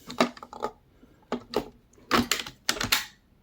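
An airsoft LT-53 magazine being loaded: a handful of crisp, close plastic clicks and snaps spaced irregularly, loud against a quiet background.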